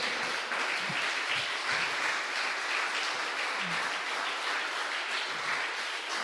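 A church congregation applauds during a sermon, giving a strong round of applause to the Lord: continuous crowded clapping at moderate level, steady from start to finish, with a few faint voices underneath.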